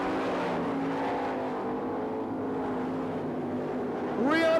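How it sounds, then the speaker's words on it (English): Sprint cars on the Knoxville dirt track running high up on the racetrack, engines droning at a distance with steady pitch, then a sudden loud rising rev as one car swoops past near the end. "Both cars run high up on the racetrack."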